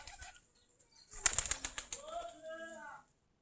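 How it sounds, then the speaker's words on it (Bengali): Desi Giribaj pigeons pecking at coarse rice burst into a quick flurry of close wing flaps, followed by a soft, drawn-out coo. The surroundings are otherwise quiet. "সেগুলো এখন খাচ্ছে কবুতরগুলা"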